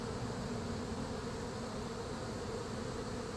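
Swarming honeybees during a hive removal in Winter Haven, Florida, a dense, steady buzzing drone heard up close without break or talk.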